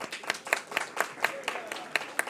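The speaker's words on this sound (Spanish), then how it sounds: "Un aplauso." Rhythmic clapping from a seminar audience welcoming a panelist, with claps landing in a steady beat roughly every quarter second, moderately close and with a few faint voices beneath.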